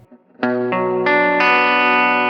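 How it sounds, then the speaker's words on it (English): A distorted electric guitar picks a short rising riff, four notes ringing into one another with a chorus-like shimmer. "It's the little picking riff that's at the very end of their song"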